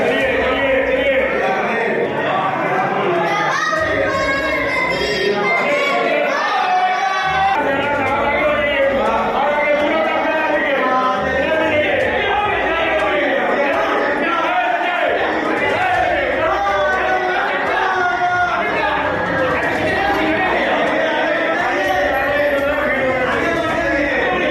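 A large crowd of devotees throngs the Tilbhaneshwar Mahadev temple at Pandey Haveli in Varanasi on Mahashivratri, with a constant loud roar of many voices and chanting close by, mixed with a narrator's voice.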